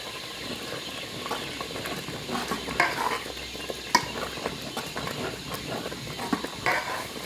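A pot of chickpea curry (sabz cholay ka salan) is stirred as it fries in village-style cooking, with a steady low sizzle and a scrape of the spoon against the pot every second or so, heard close up.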